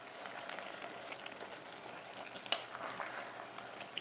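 Garden egg stew cooks in a pot with a soft, steady sizzle and gentle bubbling, heard close but quietly, with one small clink partway through and no voices.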